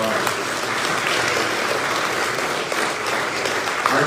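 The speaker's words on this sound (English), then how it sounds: "give her a round of applause." A crowd at a political rally in Nova Scotia gives a loud, sustained round of applause that fills the whole stretch, with crowd voices mixed into the clapping.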